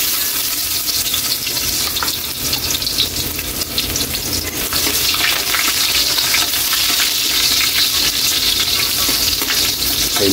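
Garlic hitting hot cooking oil in a pan, a loud steady sizzle and crackle that holds for ten seconds with faint stirring scrapes, no talking.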